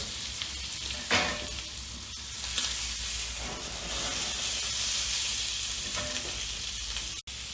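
Steak fries in a hot pan with a continuous close sizzle and hiss, broken by a few louder spits and crackles, and no voices.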